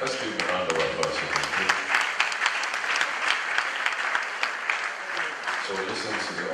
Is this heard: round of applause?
yes